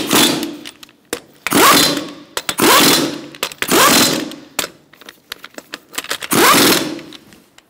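Lug nuts on a Toyota Camry wheel being run down in a star pattern with a 21 mm socket, heard as four loud bursts of power-tool whirring and ratcheting, each lasting about half a second to a second, separated by short clicks and quieter gaps.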